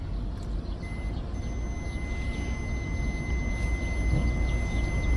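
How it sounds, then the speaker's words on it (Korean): A multimeter continuity tester on a motorcycle generator connector gives a steady high beep that holds for several seconds over a constant low background rumble. "이제 통전이 되면은 삐 하고 소리가 나는 거예요"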